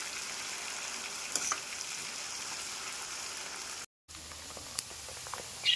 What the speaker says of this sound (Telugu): మంట మీడియం ఫ్లేమ్ మీద పెట్టేసుకొని రొయ్యలు క్రిస్పీగా వచ్చేంత వరకు ఫ్రై చేసుకోవాలి కలుపుతూ